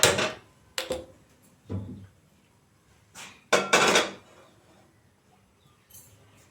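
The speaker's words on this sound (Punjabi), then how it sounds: "ਮੈਂ ਗੈਸ ਬਾਲ ਕੇ ਪਹਿਲੇ ਕੜਾਹੀ ਰੱਖ ਲਵਾਂ" A metal kadhai set down on a gas stove in a village kitchen before making carrot halwa, heard as several separate metallic clanks and knocks, close and fairly quiet, with silence between them.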